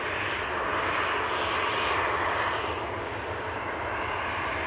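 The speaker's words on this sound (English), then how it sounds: "Ryanair to Gran Canaria with flight 2583 NAX. This is EIEFD, a 737-800 departing." A Ryanair Boeing 737-800 departs Manchester Airport in the rain, its jet engines giving a steady, broad roar that holds at an even level throughout, with no voices.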